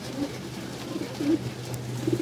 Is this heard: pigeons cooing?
yes